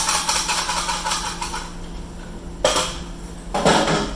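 Cocoa powder being sifted for a chocolate cake, heard as bursts of scraping and rattling from the sieve, dense at first, then a quieter pause followed by two more sharp shaking bursts near and fairly loud.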